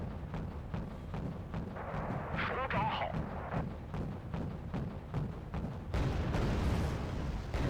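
Naval gunfire in the strategy game Wargame: Red Dragon, a Luda destroyer shelling a Nanushka, with repeated dull booms and thuds under a rumbling battle bed, a heavier blast near the end, while a voice talks over it.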